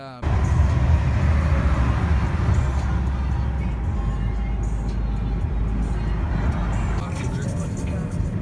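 A car drives along a road at night, its steady low engine and road rumble running loud and continuous throughout with no pauses.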